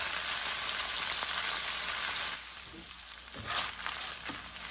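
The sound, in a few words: bacon browning in a frying pan over medium heat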